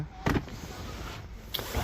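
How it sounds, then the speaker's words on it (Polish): Electric power windows whir on a 25-year-old Audi A6 C5 2.4 quattro, short, close mechanical motor buzzes starting and stopping twice, faint against a quiet car interior. "cztery elektryczne szyby z przodu i z tyłu"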